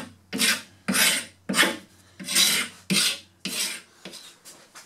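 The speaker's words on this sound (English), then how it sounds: "And I'm using a paint scraper." A paint scraper rasps shellac off boat woodwork in seven or eight firm, rhythmic strokes, each a loud gritty scrape with short pauses between, close up and without speech.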